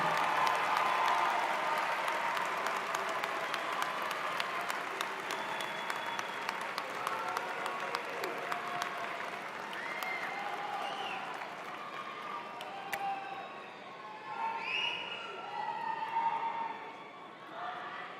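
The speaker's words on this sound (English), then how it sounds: "Let's have a big round of applause for all the families" Families, friends and community members get a long round of applause at a campus graduation ceremony, a broad roomy wash of clapping with cheers and whoops rising over it as it slowly fades.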